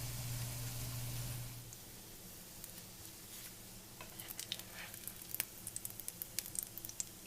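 Homemade bacon strips frying at low temperature, giving a soft, steady sizzle with scattered small crackles and pops that grow more frequent toward the end.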